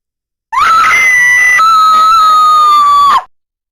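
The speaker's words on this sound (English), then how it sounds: "get used to that scream effect" A scream sound effect from the video game Les Manley: Lost in LA rings out loud and alone, one sustained high-pitched shriek lasting nearly three seconds before cutting off.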